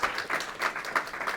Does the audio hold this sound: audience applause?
yes